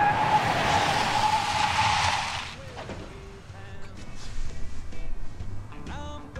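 Truck tires skidding loudly in the film Crash, a harsh screech that cuts off abruptly, followed by a quieter stretch with voices talking.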